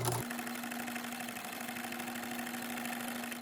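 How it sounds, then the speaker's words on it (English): A home sewing machine stitching a fabric face mask seam along the presser foot edge, a steady close mechanical whir with fast rhythmic stitching pulses after a brief start-up, no talking. "I'm just going to run the fabric along the edge of the presser foot"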